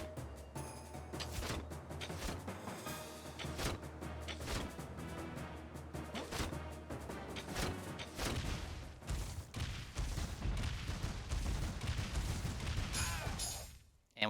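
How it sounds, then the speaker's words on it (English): Dense, continuous gunfire and crashing blasts from the Dungeonmans video game, a loud unbroken barrage of overlapping shots that cuts off abruptly at the end. "Now I'm just going to start firing at you."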